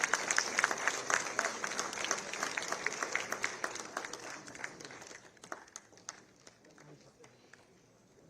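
Audience applause fills an award ceremony hall at the National Intellectual Property Awards, dense clapping from a large crowd that gradually thins out into scattered claps.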